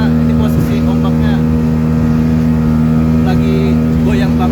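An open speedboat crosses rough, wavy sea between Penajam and Balikpapan in the late afternoon, its engine a loud, steady close drone with some wind and water noise.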